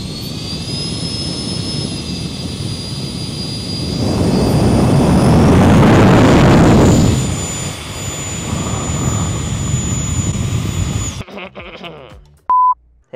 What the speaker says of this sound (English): Now that was just one jet. Let's try two jets.